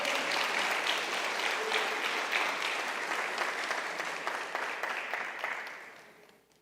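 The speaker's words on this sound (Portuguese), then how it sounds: "Você pode aplaudir ao Senhor aqui essa noite?" A church congregation claps together at an evening service, a warm, full round of applause that holds steady and then gradually fades out toward the end.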